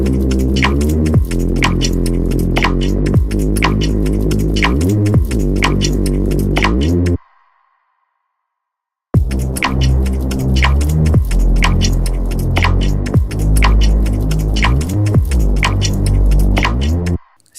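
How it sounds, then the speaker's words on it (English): Future garage Reese bass synth built in Serum: loud, thick, detuned bass tones pulsing in a steady rhythm with bright percussive clicks on top, cutting out for about two seconds midway before resuming. "I'm going to show you how to create two future garage Reese basses that sound something like"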